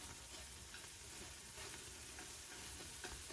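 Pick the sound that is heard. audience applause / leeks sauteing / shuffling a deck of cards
leeks sauteing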